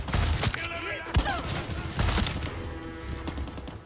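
Sharp gunshots crack in the video game Far Cry 6 on extreme difficulty, a few distinct loud reports over a dense, busy combat background with no talk.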